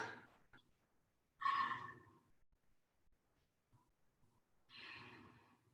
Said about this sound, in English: So big breaths in through your nose and out through your mouth.